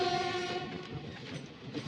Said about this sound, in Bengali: আর এদিকে থেকে বেরিয়ে আসছে ইস্টার্ন রেলওয়ের হাওড়ার P4-এর সাথে কাঞ্চনজঙ্ঘা এক্সপ্রেস